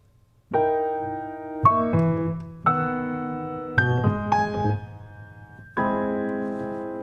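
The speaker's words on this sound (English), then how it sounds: "But usually 12-tone music sounds like this." Solo piano playing twelve-tone music: a handful of dissonant, angular chords and single notes, each left to ring before the next, with no clear key or steady beat.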